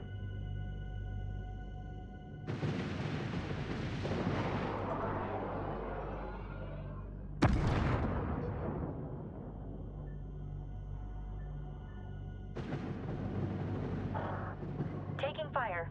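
Weapons fire and explosions from the space strategy game Homeworld 3, with loud broadband blasts arriving in bursts: a sharp impact near the middle and sustained rumbling salvos before and after, set under a steady droning game score.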